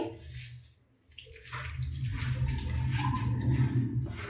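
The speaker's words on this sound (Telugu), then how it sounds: "కొంచెం వాటర్ యాడ్ చేసుకుని" After a brief pause, water pours steadily into thick ponganalu batter with green chilli and salt, a close, gurgling splash that continues to the end.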